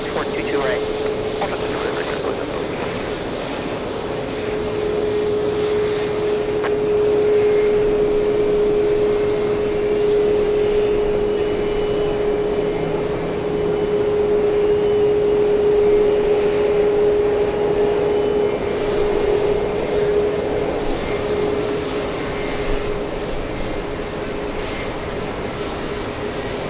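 Airplanes at JFK Airport, seen from the TWA Hotel, produce a steady, loud jet engine drone that holds for nearly half a minute with only slight swells.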